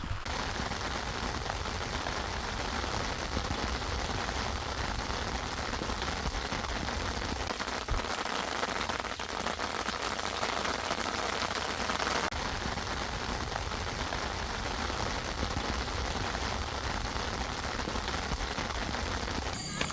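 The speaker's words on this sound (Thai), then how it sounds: "ฝนตกตามคาด ห ฝนมาเลยนะครับผม" Heavy rain pours steadily at a night campsite beside a reservoir, a dense unbroken patter drumming close by for the whole stretch, with no voices.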